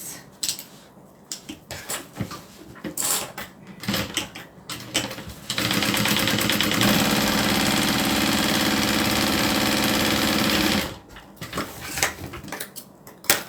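A sewing machine runs in one steady, loud burst of about five seconds while quilting fabric. Clattering handling noises come before and after the stitching.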